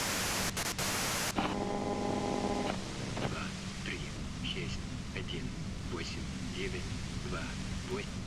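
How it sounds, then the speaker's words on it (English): Broadband white-noise static from a device in the Disco Elysium game world, loud and steady at first, then dropping to a lower hiss under soft murmured voices and scattered small clicks. "you can do it through the white noise"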